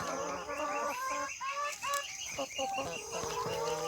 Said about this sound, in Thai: อันนี้จะเป็นแม่ไก่ไก่ไข่นะครับ